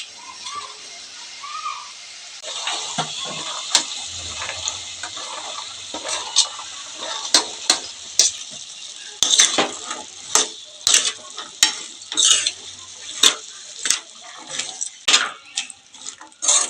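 Cluster beans go into frying dry prawn curry in a pan: a light sizzle runs under repeated sharp scrapes and clinks of a metal spoon stirring against the pan, with brief quiet talk.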